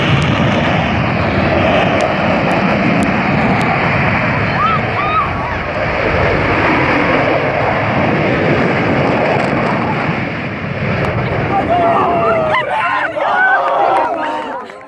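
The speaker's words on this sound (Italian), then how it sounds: "Il rombo dovuto all'eruzione era fortissimo." Loud, continuous deep roar of the Stromboli volcano erupting on the Aeolian Islands, a dense rumble that holds steady for the whole stretch, with faint crowd murmur in the background.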